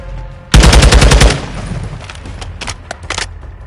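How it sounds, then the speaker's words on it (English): A turret gun hammers out a loud, rapid automatic burst in Call of Duty MWII, followed by a rumbling tail and a few scattered shots fading out. "Turret gun in our way."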